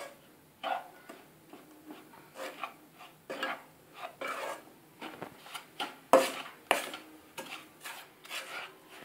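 Powdered sugar is stirred into coriander panjiri with a spoon in a metal pan, giving repeated scraping and rubbing strokes with occasional light clinks at a steady, uneven rhythm, close and fairly soft.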